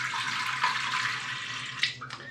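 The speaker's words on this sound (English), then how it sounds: "So I have to put some water in the Instant Pot." Water pours into an Instant Pot pressure cooker in a home kitchen, a steady splashing rush lasting about two seconds, with a faint clink near the end and no talking.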